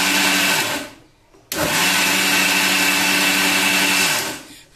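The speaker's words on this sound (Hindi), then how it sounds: "हम इसे एक से दो बार मिक्सर जार में चला लेंगे" A mixer grinder blending appam batter whirs loudly, stops for a moment, then runs again with a steady high-pitched whine before winding down.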